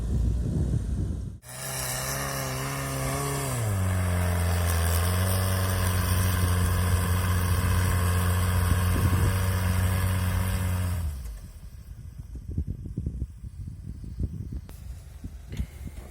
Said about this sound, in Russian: Нагрузка на мотор.